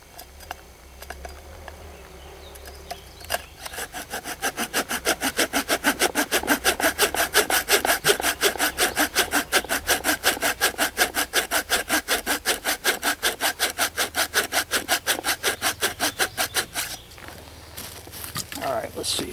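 A primitive bucksaw cuts a notch into wood with a fast, even series of rasping strokes that starts after a few quiet seconds and continues steadily before stopping near the end, close and loud.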